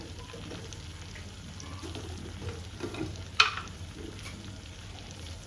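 Methi masala being stirred into gunda sambharo, a soft sizzling scrape under steady frying hiss, with one sharper clink of the spoon near the end.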